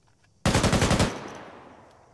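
Automatic weapon fire in the military shooter Arma 3 during a squad training push on a town objective: one loud, close burst of about ten rapid shots lasting half a second, followed by a long fading echo.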